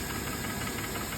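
A Mercedes E350 with the 3.5-litre M272 V6 and all-wheel drive, its cylinders scored, runs close by with a steady rapid knocking rattle over the engine drone in a brief, unbroken burst.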